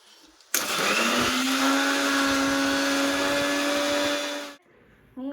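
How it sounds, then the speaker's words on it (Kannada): A mixer grinder whirs loudly and steadily for about four seconds, grinding biryani masala with water for a mushroom biryani, starting abruptly and cutting off, with a bit of kitchen noise after. "ಒಂದು ಸ್ವಲ್ಪ ನೀರು ಹಾಕಿ ಮಸಾಲೆ ರುಬ್ಬಿಡು ಸಾಕು."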